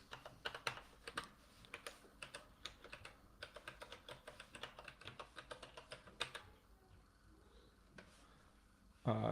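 Rapid, uneven clicking of keys on a computer keyboard, quite close, with bursts of typing through most of the stretch and a pause near the end.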